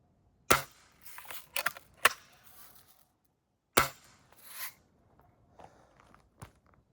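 A Western Justice Lil' Sure Shot toy gun fires sharp, close pops at irregular intervals, with softer clicks and handling noises in between.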